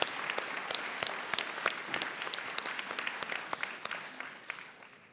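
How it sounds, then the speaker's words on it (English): Audience at a college convocation ceremony gives a round of applause for scholarship donors; sharp individual claps stand out over the crowd's steady clapping, which gradually fades toward the end. "Please join me in a round of applause thanking all of those who donate to the scholarship program."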